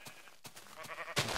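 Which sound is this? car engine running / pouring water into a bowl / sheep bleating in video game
sheep bleating in video game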